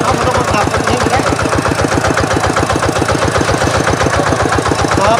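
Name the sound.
two-wheel tractor engine running while plowing a rice field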